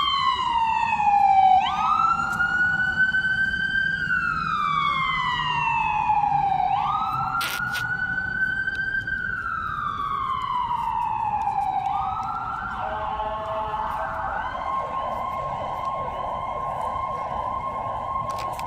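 Emergency sirens wail steadily in the background, their pitch rising and falling in long sweeps before settling into a faster alternating tone. They carry on without a break under a low street rumble, and no one speaks.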